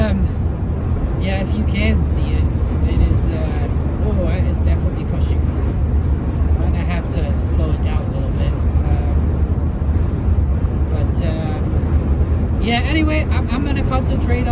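Strong wind buffets a moving van on the drive out of Payson, Arizona toward Quartzsite, a steady loud rumble and roar of air and road noise running throughout, with a few brief higher gusts.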